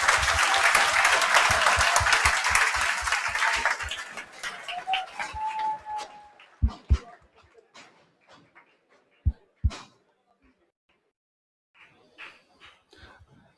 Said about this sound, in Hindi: अपन अभी सभी के लिए एक बार जोरदार तालियां वापस से।